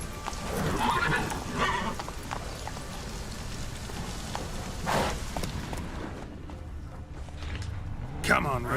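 Geralt's horse Roach in The Witcher 3 video game, hooves clip-clopping in a steady trot with a whinny and creaking tack, while someone talks over it.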